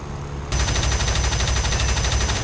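The twin cannons of a MiG 3-34 fighter in War Thunder fire on a Ju-87 dive bomber: a loud, rapid, steady burst of rhythmic shots kicks in after a brief quieter moment and hammers on without pause.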